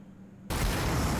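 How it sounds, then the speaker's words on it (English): A sudden heavy explosion effect in a visual novel video game bursts in after a faint quiet moment, loud and broad, then roars on as a sustained rumbling blast. "An intense explosion shakes the air in the closed entry door"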